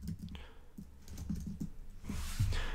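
Typing on a computer keyboard in a quiet room, a short run of soft, closely spaced key clicks at moderate distance with no talking.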